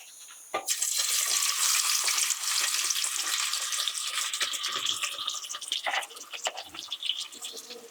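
Onions go into hot oil in a pan for a Cameroonian ndolé, setting off a sudden loud sizzle that hisses steadily, then crackles and fades slightly as they settle.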